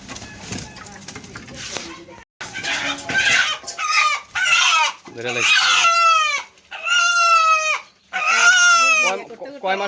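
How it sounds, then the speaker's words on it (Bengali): Chickens and a rooster being readied for slaughter cluck and squawk loudly up close, with repeated harsh, rising crowing calls in bursts separated by brief pauses. "মুরগি জবাইয়ের জন্য প্রস্তুতি নেওয়া হচ্ছে।"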